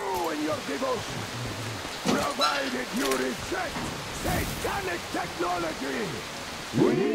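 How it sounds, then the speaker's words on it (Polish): Steady rain hisses in the background of the video game Metro Exodus while voice-like calls and chatter rise and fall over it. "Ja słyszę deszcz czy mnie odcina, nie?"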